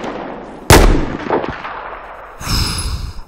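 Battlefield 4 gunfire on the Operation Locker map in PC team deathmatch: one loud, sharp blast rings into a decaying echo, then fainter thuds and a later rumbling burst follow, with no voices.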